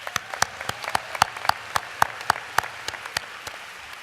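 Scattered hand claps ring out at a business school commencement ceremony, a sparse, fairly even patter of individual claps rather than a dense ovation.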